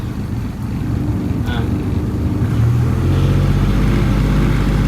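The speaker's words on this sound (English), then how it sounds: "Turn the key, and she starts up sweet as a nut." An Evinrude E-TEC 90hp outboard motor cranks and fires up, then settles into a steady, loud low idle rumble that continues close by, with someone talking over it.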